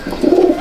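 Pigeons cooing in a Rampuri pigeon loft, a low continuous burbling coo that swells in the middle and carries on to the end, close and fairly loud with no talking.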